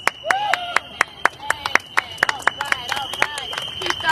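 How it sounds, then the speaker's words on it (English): Crowd applause at a rally, a busy run of sharp claps near and loud with a high sustained whistle tone running through it and voices audible underneath. "Keep those applause going"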